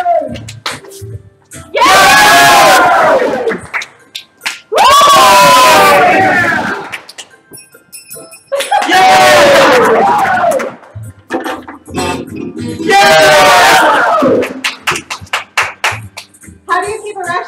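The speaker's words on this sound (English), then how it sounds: "Cheer on, everyone!" A game show studio audience erupts in four loud, separate bursts of cheering, screaming and clapping, each lasting a couple of seconds, with quieter gaps between them.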